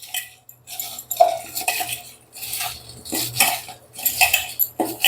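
Quartered dondakaya (ivy gourd) being stirred with a little salt, a spoon clinking and scraping against the vessel in repeated close bursts, with no talking.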